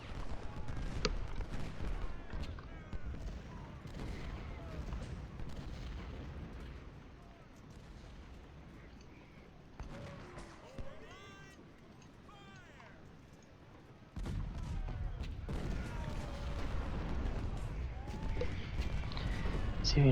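Cannon fire in the Civil War strategy game Ultimate General: Civil War, a dense stream of booming battlefield artillery with scattered musketry, loud throughout with a brief lull before the barrage swells again, with someone talking over it.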